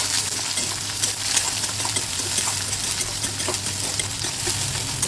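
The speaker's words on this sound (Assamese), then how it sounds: "আৰু এতিয়া পিঁয়াজখিনি ভালদৰে লৰাই দিওঁ।" Onions frying in a wok get stirred with a utensil, a continuous close sizzle broken by scraping and light clinks of the spatula against the metal, with no voices.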